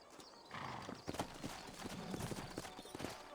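Horse hooves clip-clopping in Red Dead Redemption, set in New Austin: a steady, fairly close rhythm of hoof falls with a brief whinny, no talk over it.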